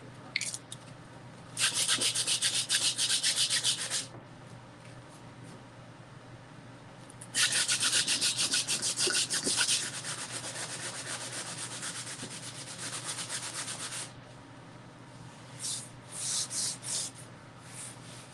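Wood being sanded by hand with sandpaper during a painting project: two long bursts of close, steady rasping strokes, then a few shorter scrubs toward the end, with no talking.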